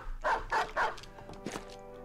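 War dogs in the Battle Brothers game bark three times in quick succession, then give a fainter trailing bark, heard close and clear over a low game backdrop.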